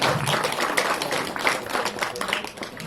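Steady applause fills a hall at the inauguration of a musical yoga session with MLA Prashant Thakur, welcoming the guest with dense, continuous clapping throughout.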